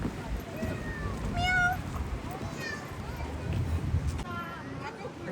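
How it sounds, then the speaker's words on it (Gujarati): Several cats and a small kitten meow at a viewpoint outdoors, thin rising cries repeating every second or so at moderate distance over steady background noise, with people talking nearby. "અહીંયા જો કેટલી બધી બિલાડી આવી છે, બાપરે. હવે નાનું બચ્ચું છે જો."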